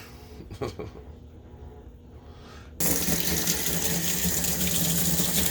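Tap water gushes from a faucet into a sink to wash a female ball python, first a faint trickle, then a sudden loud, steady rushing stream that continues to the end.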